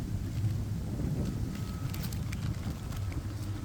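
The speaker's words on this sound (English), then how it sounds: "A little windy." Steady wind buffets the microphone outdoors in downtown Burlington, a constant low rumble that fills the clip with no breaks and no voices.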